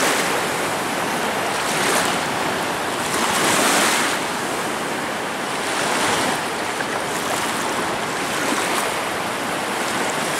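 Sea waves roll onto a sparsely populated beach on the Gulf of Riga, a continuous surf wash with repeated swells every couple of seconds, mixed with wind buffeting the microphone and no voices.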